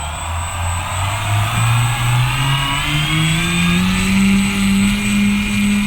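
An electric motor on a homemade flying bicycle with small wings and propeller power revs up steadily, its rising whine climbing in pitch over several seconds, loud and close with no voices.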